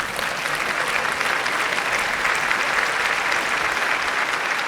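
Steady, dense applause from a stand-up comedy audience fills the room, loud and continuous for the whole stretch with no gaps and no clear voices over it.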